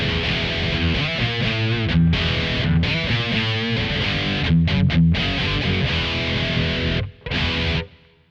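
A Kemper Profiler drives a heavily distorted electric guitar in a metal tone shaped by EQ, playing loud dense riffs with brief stops and a cut-off near the end.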